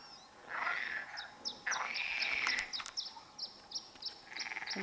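Frogs calling from a small pond in a Gran Canaria valley, a series of short bright chirping calls in bursts, some longer trilled, fairly faint and distant over a quiet outdoor background.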